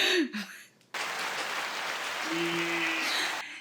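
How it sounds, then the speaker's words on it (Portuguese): Short, even round of applause for a podcast guest, a dense steady clapping that starts abruptly after a brief spoken greeting and stops cleanly, with a faint voice underneath. "Aplausos pro Vitor."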